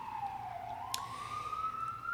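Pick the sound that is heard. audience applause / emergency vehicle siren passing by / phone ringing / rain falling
emergency vehicle siren passing by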